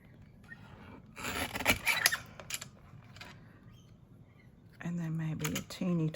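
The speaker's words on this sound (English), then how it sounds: "Trim a little bit off this end, and we'll just trim a little bit off top and bottom here." Scissors snip and rasp through card trimmed for a handmade birthday card, several close crisp cuts in short bursts with quiet pauses between them.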